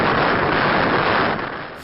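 Powerful tornado wind gusts near Houston roar as a dense, steady rush of noise buffeting the microphone, loud and close, easing slightly toward the end.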